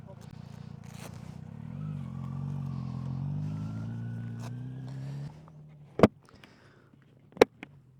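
A motorcycle rides in, its engine droning steadily with a slowly rising pitch for about five seconds before cutting off, followed by a few sharp, isolated knocks.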